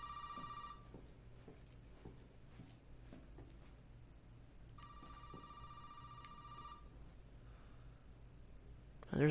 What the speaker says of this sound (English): And it's just a phone ringing.